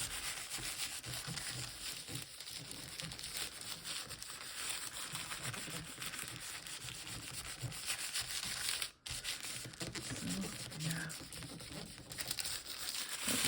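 Paper is rubbed by hand over a gelli printing plate laid with yarn, thread and string, making a continuous close scratchy rubbing and soft crinkling that carries on without pause, with one brief dropout partway through.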